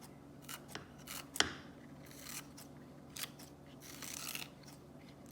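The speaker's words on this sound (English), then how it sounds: "we need some green onion, so we're just gonna cut that up really thin" A knife slices green onion thinly for a shrimp stir fry, giving a few soft crisp cuts with one sharper crunch, close and very quiet.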